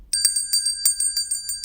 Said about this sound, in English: It's the KOMG dinner bell